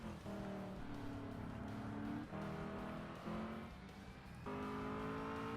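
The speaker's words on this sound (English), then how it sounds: "It's the second time I've bumped my rev limiter on that turn" A supercharged car engine in Forza Motorsport repeatedly bangs off its rev limiter, a loud, sustained drone that stutters and drops at intervals before climbing again.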